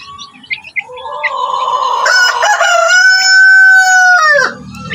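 A backyard rooster crows once, loud and close, with a rising start and a long held call that breaks off at the end, while faint chicken clucks and chirps sound before it.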